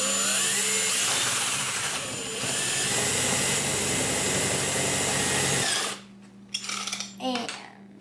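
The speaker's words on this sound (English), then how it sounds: "So you're just going to drill through the middle of the top" A power drill bores through the middle of a top piece for a homemade hydrogen generator, running loud and steady for several seconds with a brief dip, then stopping abruptly before a few clattering handling noises.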